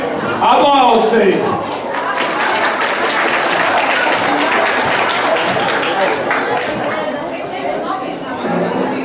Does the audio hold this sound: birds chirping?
no